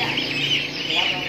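Young turkey chicks on a poultry farm give continuous high, thin peeping calls, a dense overlapping chorus heard close, with someone talking over them.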